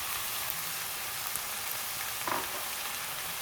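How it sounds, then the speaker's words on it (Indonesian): Green beans frying in a pan as a filling for Indonesian pastel: a steady, even sizzle with a brief stir near the end, no voices. "Masukkan buncis. Ini kita masak lagi kurang lebih 5 menit ya."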